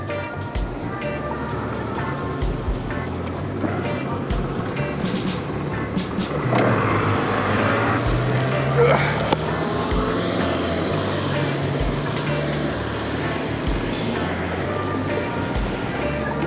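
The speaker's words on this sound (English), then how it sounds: "The bike is, you know, making its way up slowly." A DTTZH A12 folding e-bike climbs a hill slowly, with steady wind rumble and road noise close to the mic and a motor whine that swells partway through.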